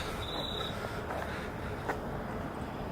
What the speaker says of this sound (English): it sounded like there was an army of grasshoppers outside of my door